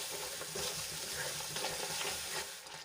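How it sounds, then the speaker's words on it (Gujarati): Gravy is stirred and sautéed in a pan while cooking a green pea curry, giving a steady close sizzle and hiss with soft scraping strokes of the spoon throughout. "થોડી વાર માટે હલાવતા જઈશું અને સાંતળી લઈશું"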